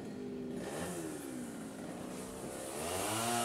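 An Isuzu 105 engine on a crawler tiller runs steadily at close range, a loud, continuous mechanical drone that climbs slightly toward the end, with no talk over it.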